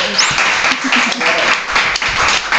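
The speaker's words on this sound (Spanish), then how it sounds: "un aplauso" Studio audience applause on a Spanish comedy show, a steady, fairly loud wash of clapping that fills the whole stretch with a few voices faintly mixed in.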